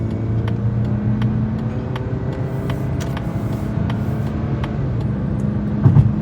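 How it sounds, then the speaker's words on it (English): Steady engine hum from a 2024 Mazda CX-50 with a low, even drone and road noise throughout, no talking, with a brief louder bump near the end. "Engine sound is really nice in this car."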